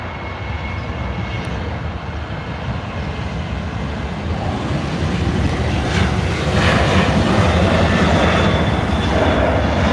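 A Southwest airliner departs with a broad, steady engine roar that builds gradually louder, a continuous wash of jet noise with no talking.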